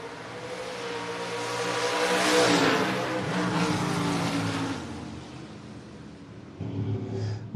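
Drag race cars launch side by side, one of them a Mustang, with engines roaring up into a loud rising blast that fades as they pull away down the strip, and another engine revs near the end.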